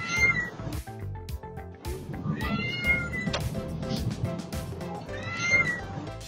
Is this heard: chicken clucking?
no